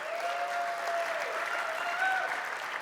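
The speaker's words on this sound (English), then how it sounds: "we're celebrating Premiere's 25th anniversary, which I think is worth a round of applause" Audience applause at an Adobe event marking Premiere's 25th anniversary, a steady, fairly distant wash of clapping lasting about three seconds, with a faint tone running beneath it.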